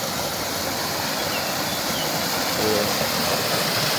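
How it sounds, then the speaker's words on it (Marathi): A waterfall pours down from above into a deep village swimming pool, producing a steady, close, broadband rush of water that stays loud and unbroken. "आणि इथे धबधबा आहे वरून पडतो धबधबा"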